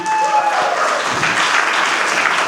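A conference panel audience at a Web3 event in Goa claps loudly and continuously, with cheering and a voice speaking over the ongoing applause.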